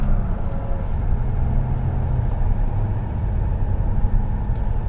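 Engine of a 2014 Toyota Avalon XLE rev-matching on paddle-shift downshifts, a steady low rumbling drone of engine and road noise heard from inside the car, continuous and moderately loud with no talking.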